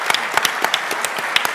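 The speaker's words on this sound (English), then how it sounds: "And to that, we applaud you because that's an amazing thing." An audience at a panel discussion on gender equity in sport breaks into dense, lively applause, many hands clapping close together at a steady, fairly loud level.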